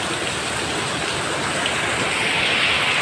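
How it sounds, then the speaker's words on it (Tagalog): Heavy rain pours down during a typhoon, a dense, unbroken loud roar of drops hitting surfaces at close range throughout, with no voices. "Yan o, sobrang lakas ng ulan."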